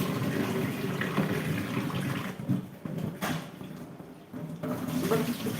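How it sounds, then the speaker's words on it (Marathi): Black, dirty water pours steadily from a tap into a basin, a continuous splashing rush with a few brief dips, no voices. "पाणी निघालं काळ काळ पाणी निघालं"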